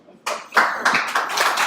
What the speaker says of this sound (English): Yes, please, clap for the people in there.